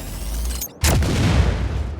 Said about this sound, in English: The explosions in this game are nothing short of glorious.